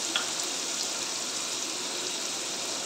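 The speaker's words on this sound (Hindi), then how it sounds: "लहसुन अदरक का पेस्ट, इसको हम डाल देंगे तेल में और इसको फ्राई कर लेंगे।" Garlic-ginger paste fries in hot oil for a paneer and capsicum curry. A continuous, even sizzling hiss holds steady at moderate volume, with no talking.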